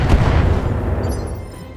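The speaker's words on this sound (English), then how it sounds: "And we'll just fire some LRMs." LRM missiles launching in Battletech, a deep booming burst at the start trailing into a rumbling salvo that fades over a couple of seconds.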